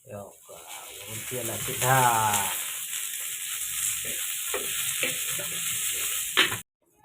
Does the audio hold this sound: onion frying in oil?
yes